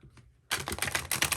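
A deck of very large tarot cards is shuffled, a quiet rustle giving way to a dense burst of rapid, crisp clicking as the cards riffle together, close and fairly soft.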